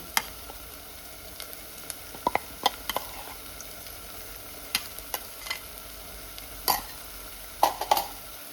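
A paste of soaked Kashmiri chilies fries for a catfish ambot tik masala, making a soft, even sizzle with occasional sharp spoon taps and scrapes close by.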